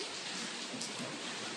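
Rain falls as a steady, soft hiss of drops, faint and even throughout with no voices.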